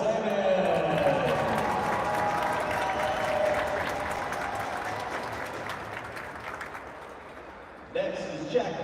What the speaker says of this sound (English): Let's give a big round of applause for Will Salmon.